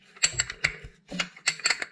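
Wrench turning out an exhaust manifold stud bolt, a series of sharp metallic clicks and ratcheting ticks in two short clusters, close and distinct with no talking.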